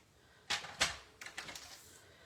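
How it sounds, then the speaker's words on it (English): A paper trimmer cutting card for a handmade pop-up card makes a few sharp, quiet clacks and sliding scrapes, two distinct strokes followed by a short cluster of lighter clicks, close up in a quiet room. "So I'm going to just trim that slightly."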